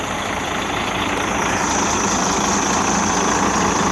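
A truck engine idling steadily with a loud, dense rumble and vibration, running close and continuously before cutting off abruptly at the very end.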